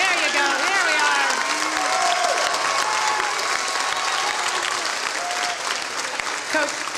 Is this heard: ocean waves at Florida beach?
no